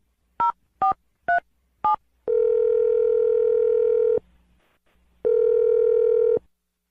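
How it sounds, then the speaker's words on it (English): Four short dialing beeps are followed by two long, steady ringback tones with a pause between them, clear and close. "I'm going to dial the phone number"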